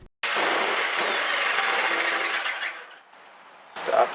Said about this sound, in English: If you're using a jigsaw, you will want to secure it better than I did